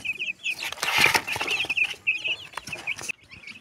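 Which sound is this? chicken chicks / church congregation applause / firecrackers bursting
chicken chicks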